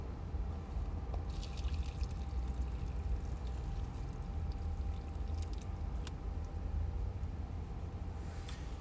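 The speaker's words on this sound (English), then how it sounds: "it's actually very hot, so I'm gonna pour this to the little bowl" Hot water pours steadily into a small bowl inside a car, a continuous close splashing stream with a low rumbling undertone throughout.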